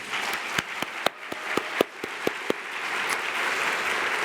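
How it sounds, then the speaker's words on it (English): Audience applause at a university diversity forum, a dense wash of clapping with distinct sharp claps standing out early, sustained and steady through the whole stretch. "Give Dr. Robbins and Sasha one more round of applause."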